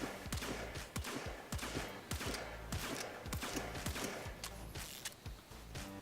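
The Pandero pistol in Warframe fires a rapid series of sharp, distinctive shots in quick irregular bursts, loud and close, with brief gaps between volleys.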